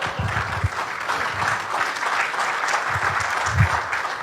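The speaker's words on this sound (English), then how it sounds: "when there is a clap from the audience" Audience applause at a business association's annual meeting, a steady wash of clapping from a seated crowd lasting throughout, fairly loud and continuous with no voices over it.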